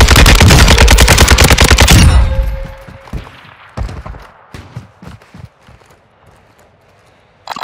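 Loud, dense automatic gunfire from a Warzone 2 video game firefight, a rapid close burst for about two seconds, then scattered sharper single shots and distant pops with footsteps in the quieter stretch.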